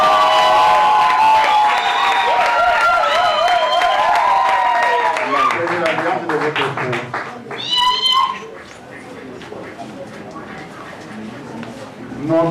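Guests at a church wedding cheer loudly with high, wavering ululations and shouts over scattered clapping, the din dropping away midway before a brief burst of shrill cries near the end.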